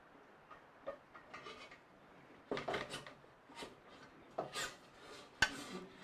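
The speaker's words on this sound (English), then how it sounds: "This fence is a high-low fence, so I can flip it over like so." A bandsaw's high-low fence being flipped over produces scattered wooden knocks and rubbing clatters, quiet at first, then a few louder clunks and one sharp tap near the end, with no talk.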